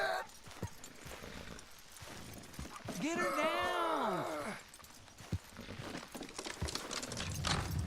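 Horse hooves clip-clopping in the Red Dead Redemption 2 video game, with a loud whinny midway, under shouted voices and game sounds.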